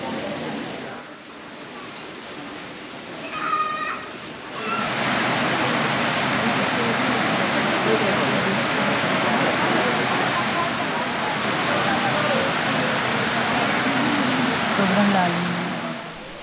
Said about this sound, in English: I'm going to the waterfall. I don't think it's very far. I can hear it slightly.